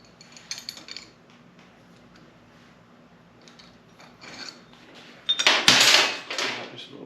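Parts being tightened on a motorcycle front fork during a fork seal replacement, with light scraping and rubbing early on, then a louder grinding, rasping burst of metal-on-metal turning near the end, close by and without talk.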